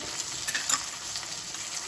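Colored capsicums, green, yellow and red, frying with lightly fried onions in a pan, stirred so a steady close sizzle carries a few scraping clinks, with no talk over it.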